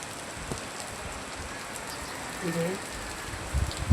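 Steady morning rain falls in an even, close hiss that holds for the whole stretch without a break, with a brief faint murmur rising partway through.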